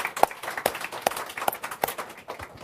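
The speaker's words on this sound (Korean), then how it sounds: "박수 한번 쳐드릴까요?" Audience applause at a Korean ministry social-media town hall event, heard as a handful of sharp, evenly spaced claps standing out over a quiet room, fairly light and sparse.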